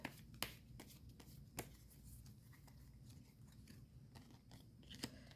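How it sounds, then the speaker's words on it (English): Soft, close riffling and snapping of a tarot card deck being shuffled, with scattered sharp flicks over quiet background rustle. "let me quickly shuffle the deck"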